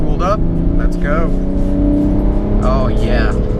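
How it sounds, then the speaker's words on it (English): A tuned BMW 335d diesel with its turbos spooled accelerates hard, a loud, steady engine roar rising in pitch through the gears, heard from inside the car. "Turbos are spooled up. Let's go."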